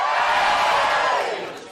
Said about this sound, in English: Give me a cheer if you're single.